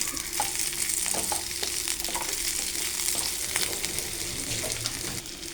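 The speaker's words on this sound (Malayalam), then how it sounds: "ഇതെല്ലാം കൂടി നമുക്കൊന്നും കൂടി വഴറ്റാൻ വയ്ക്കാം." Tomato and eggplant sauté in a pan, a continuous bright sizzle and crackle of frying with scattered stirring scrapes and clinks, fairly close and with no one speaking.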